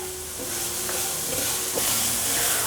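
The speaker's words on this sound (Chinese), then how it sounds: "继续翻炒。" Carrots being stir-fried with enoki and shiitake mushrooms in a hot wok: a steady loud sizzle and hiss with a few scraping stirs of the spatula, no talking.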